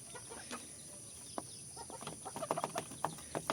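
Laying hens on an Indonesian backyard farm cluck and scramble while feeding on rice bran mixed with concentrate, with busy overlapping clucks and pecking against a steady background hum.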